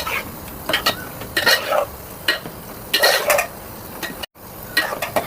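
A spoon stirs spiced mutton kurma in a pot, with chili powder and garam masala just added, giving repeated scraping, clinking strokes in an irregular rhythm, close and fairly loud, with a faint sizzle underneath.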